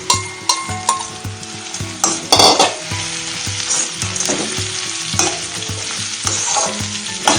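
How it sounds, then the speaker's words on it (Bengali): Carrots, nuts and mixed vegetables sizzle steadily in a frying pan for fried rice, while a utensil stirs and scrapes through them in irregular strokes. "বাকি এই গাজর বাদাম এগুলো সব দিয়ে ভালো করে মিক্স করে নেব।"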